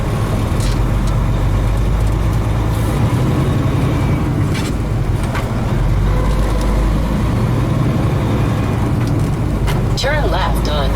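A heavy truck with a 13-speed transmission hauling an 80,000-pound load drones with a loud, continuous low engine rumble and road noise from inside the cab, and a voice talks over it.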